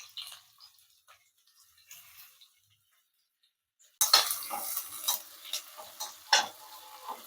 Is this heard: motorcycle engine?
no